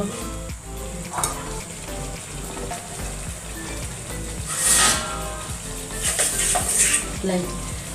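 Whole okra curry (bhinda nu shaak) simmering in a pan: a steady soft sizzle and crackle throughout, with a few brighter spattering bursts midway and near the end.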